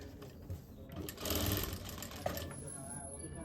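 A sewing machine stitches a seam on elastic leggings, its motor running in a steady buzzing whir that swells louder in the middle and continues to the end.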